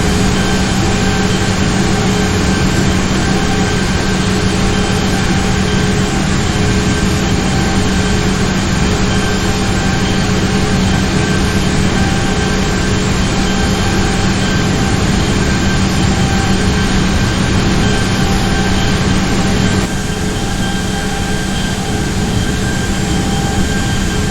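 Boeing 737-800 taxiing in X-Plane 11, a loud, steady engine drone with a constant whine and hum that holds unchanged for over twenty seconds, easing slightly near the end, with no voices.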